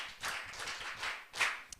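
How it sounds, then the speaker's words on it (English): A community forum audience claps for a student who just answered a question at a Ghanaian outreach event, the irregular bursts of applause rising and falling across a couple of seconds. "Can we clap for him?"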